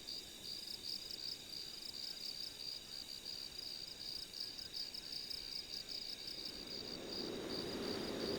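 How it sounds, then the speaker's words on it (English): Steady chorus of crickets chirping in the outdoor ambience of the Sunny Meadows map in Garry's Mod, a continuous high trill over faint low background noise, with no voices. "There's like crickets in some areas too."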